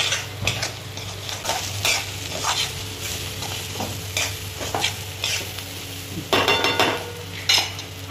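Soaked sago pearls are added bit by bit and stirred in a frying pan for a fasting sabudana usal, with steady sizzling under repeated scraping and clinking of a spoon against the pan, close and clear.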